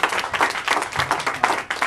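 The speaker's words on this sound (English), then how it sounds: "let's give a big hand of applause for Jim Cabral and Gabbys" A small group applauding Jim Cabral and Gabbys at Tim's, a short burst of uneven, close clapping with separate hand claps audible, moderately loud and brief.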